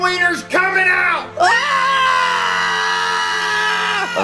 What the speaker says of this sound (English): I know you're screaming for your lives